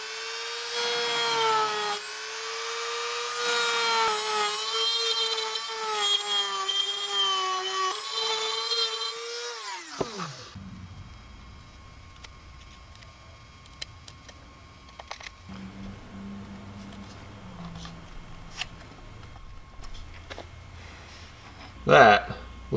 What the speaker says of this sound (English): go in with a burr bit on my Dremel and kind of gouge out as much as I can